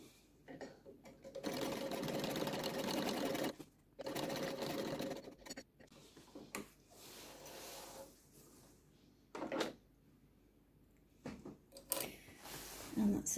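A sewing machine stitches a strip of lace over a pleated seam join on a petticoat, running in several bursts of varying length separated by pauses and handling clatter, close and fairly loud.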